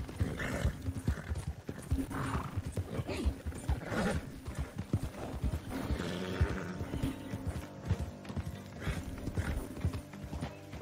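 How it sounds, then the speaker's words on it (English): A horse gallops in Red Dead Redemption 2 Online, with rapid, rhythmic hoofbeats close up and a brief whinny, over a low ambient hum. "Can't ride my horse faster anymore."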